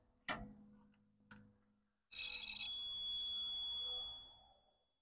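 A continuity tester gives a loud, steady high-pitched beep for about two seconds when its probe touches the correct wire of a 3-wire temperature sending unit on an LS-swapped Chevy Cheyenne. Two short clicks come just before it.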